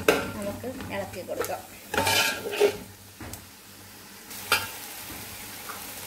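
Tomatoes cook down in a Kerala-style spicy beef curry as a utensil stirs the pan, with intermittent scraping bursts and clatter over a soft sizzle, close and moderately loud.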